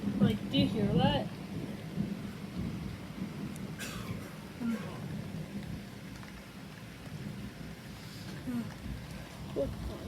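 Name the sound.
thunderstorm with heavy rain and thunder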